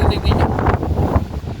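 Strong gusting wind on Mt. Kilang buffets the microphone in a loud, rough roar with uneven surges across the short stretch, with no clear speech.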